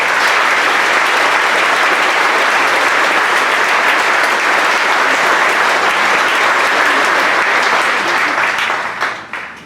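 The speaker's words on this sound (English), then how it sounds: "Well, how about a round of applause for all of those?" Loud, dense applause from a graduation ceremony crowd, continuous clapping that holds steady for several seconds before tapering off at the end.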